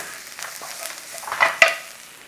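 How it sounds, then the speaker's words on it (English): Garlic sautéing and being turned in a hot pan, a soft steady sizzle with brief clinks of a utensil near the end, close and moderately quiet. "we've got a little bit of a saute on there"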